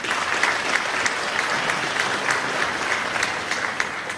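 Steady audience applause at a university keynote, a dense wash of clapping with a few sharper claps standing out, continuous throughout without any speech.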